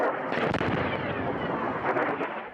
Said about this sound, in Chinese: 掃落來就擊到地面目標的爆炸聲甲火光